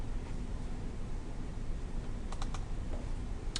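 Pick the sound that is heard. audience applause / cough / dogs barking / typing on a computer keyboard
typing on a computer keyboard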